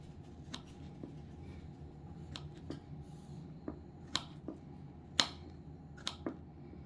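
A knife taps on a cutting board in irregular, sparse chops, quiet and close, with a soft background hum.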